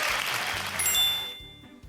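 Adults clapping in praise for children at a church kindergarten summer Bible school, a short soft patter of claps followed by a bright chime-like tone and quiet.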